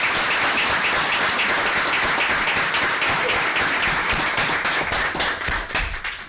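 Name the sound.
audience applause at village board meeting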